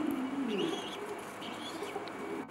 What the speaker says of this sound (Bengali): গালিব ভাই এখানে এটা আমরা কি কবুতর দেখছি?